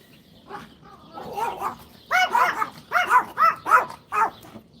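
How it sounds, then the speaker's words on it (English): A neighbors' dog barking outdoors, a run of about six sharp, moderately distant barks in quick succession after a few softer yips, with no talk over it. "the neighbors let their dog out"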